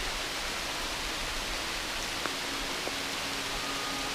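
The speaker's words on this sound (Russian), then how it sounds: "Ливанул сильный дождь" Heavy rain pours down in a dense, constant hiss in the mountains of Abkhazia, with a couple of faint tones briefly showing through.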